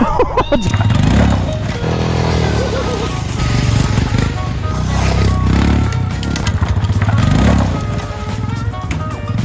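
A loud, steady motorcycle engine drones and revs continuously, rising and falling in pitch, with faint voices underneath.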